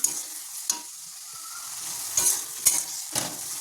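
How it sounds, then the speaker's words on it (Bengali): Meat with spices sautéing in a pan, a soft steady sizzle broken by several sharp scrapes and clanks of a stirring utensil, close and alone. "আর এখানে মাংসটা মশলাটা কষানো হচ্ছে।"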